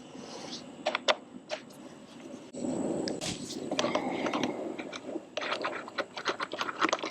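Tool work on a 2025 KTM 390 Enduro R loosening a front 6mm Allen bolt: sharp metallic clicks and ticks, then a stretch of steady ratcheting, close and moderately loud with no speech.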